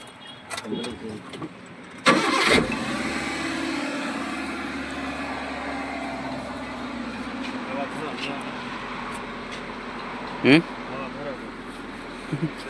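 A Maruti Eeco car running on gas cranks and fires up with a sharp burst, then settles into a steady, close idle hum, with people talking nearby and a couple of brief clunks.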